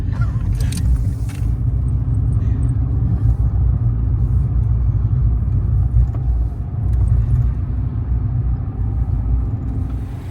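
A car drives along town streets in Rochdale, England, heard from inside the cabin as a steady low road rumble and engine drone, with a brief faint voice early on.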